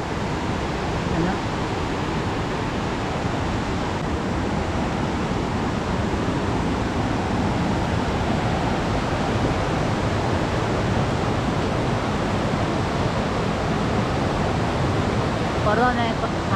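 River water flows steadily along a trail leading to waterfalls, a loud, constant broadband rush that stays even and close throughout with no clear breaks.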